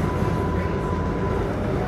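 Subway train running near Hunters Point Avenue station, a steady close rumble of wheels and car noise with a faint constant tone, continuous and loud throughout.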